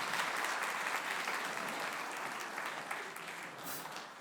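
A spring band concert audience claps for a student ensemble, a loud, even wash of applause from a full room that holds steady throughout, with no voices standing out.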